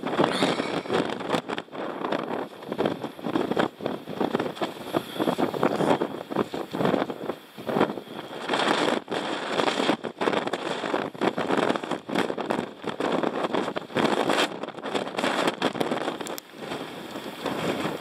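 Wind buffeting a microphone on an open hill during a day hike on the Long Mynd in Shropshire, a steady roaring rush with gusty surges and brief lulls throughout.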